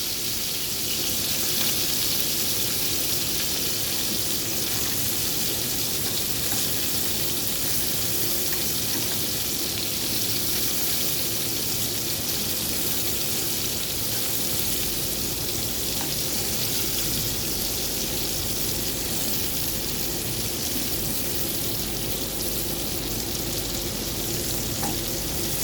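Meatballs fry and brown in a hot pan, giving a dense, continuous sizzle and crackle that stays loud and even throughout with no voices.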